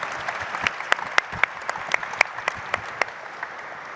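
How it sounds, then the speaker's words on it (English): A small audience at a panel discussion on post-conflict recovery claps, sparse individual hand claps standing out sharply over a softer spread of clapping, tapering off after a few seconds. "Please give him a round of applause."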